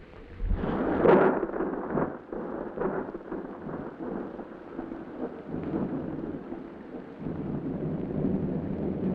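Heavy rain pours down while thunder rolls loudly early on, then rumbles on under gusty wind buffeting the microphone, in a 1949 television drama.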